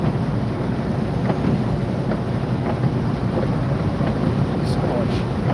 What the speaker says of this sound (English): Steady out there with the wind still.